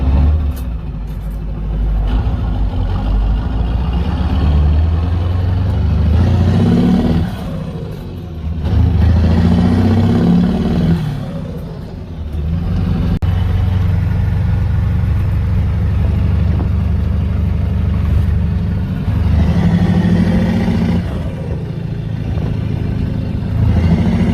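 A large turbo diesel truck engine with an exhaust modification free-revs and settles repeatedly while idling in place, a loud, steady rumble with surging rises and falls.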